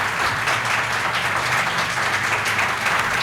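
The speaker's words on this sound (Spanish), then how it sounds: "pido que le demos un aplauso a Valentín" Applause from the audience at a tribute ceremony honouring the young members of Gesta Bárbara, a steady, dense wash of clapping from a sizable crowd, continuous and fairly loud with no pause.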